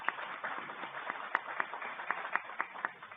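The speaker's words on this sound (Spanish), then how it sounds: "Un aplauso también para el doctor Nicolás Vergesio" Scattered applause at a real estate law conference, with a modest number of individual claps spread unevenly across the room at moderate loudness and no talking over them.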